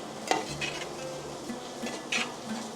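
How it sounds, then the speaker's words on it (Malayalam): A spoon stirs a mixture of beaten rice (aval) and white jaggery in a pan for a Kerala aval vilayichathu snack, making a few soft, intermittent scrapes and light sizzling at close range. No speech. "ഇതെല്ലാം കൂടെ നന്നായിട്ട് മിക്സ് ആകത്തക്ക രീതിയിൽ നന്നായിട്ട് ഇളക്കി കൊടുക്കണേ"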